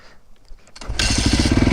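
Rebuilt Yamaha YZ450F dirt bike fitted with Hotcams firing up after a kick, catching abruptly into a loud, close, rapidly pulsing single-cylinder idle following a few quiet knocks.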